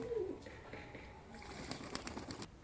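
Pigeons cooing in a home loft where young birds are being settled, soft low coos near the start followed by faint chirps and light rustling of wings, quiet and close, with no voices.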